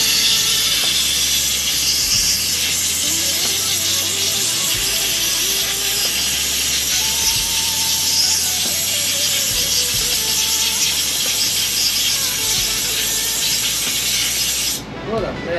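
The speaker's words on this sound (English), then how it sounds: "let's go ahead and give it a scrub down. Your standard electrical cleaner," Electrical contact cleaner sprayed onto a starter motor from a 1986 Wheel Horse 417A garden tractor, a loud continuous close hiss that runs almost without a break and cuts off near the end, with faint scrubbing underneath.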